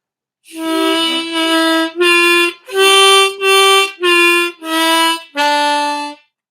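Ode to Joy is played on a diatonic harmonica as a run of eight distinct reedy notes in an even, stepwise rhythm. Each note is held briefly and sounds close and clear, with no talking.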